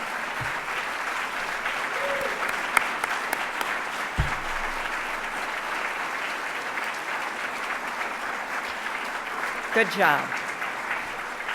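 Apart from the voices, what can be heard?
standing audience applause at an honors presentation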